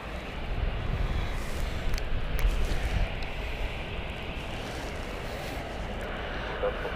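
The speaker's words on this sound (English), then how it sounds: "Inbound next is EasyJet as well. It's Airbus A380 from Zurich." An EasyJet Airbus A380 airliner inbound from Zurich at Gatwick Airport, a steady broadband jet roar holding at even loudness throughout, distant and continuous with no talk over it.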